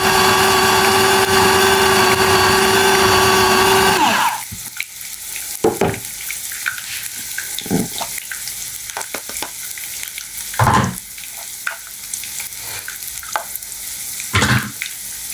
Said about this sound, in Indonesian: aku akan memanaskan minyak untuk menggoreng tahunya